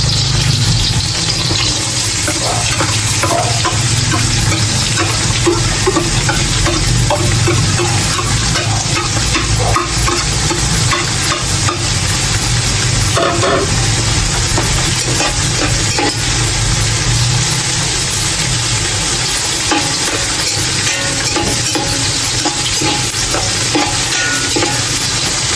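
Onions stir-fried in a pan with a loud, continuous sizzle and the constant scrape and clatter of a utensil working through the pan, no speech over it.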